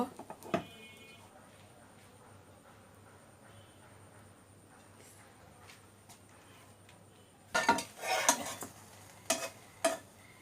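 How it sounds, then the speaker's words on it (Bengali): A plate is set down over bread in a pan, giving a cluster of sharp clinks and scrapes near the end, after a long stretch of faint, quiet kitchen background. "এখন আমি এরকম একটা প্লেট বসিয়ে দিব।"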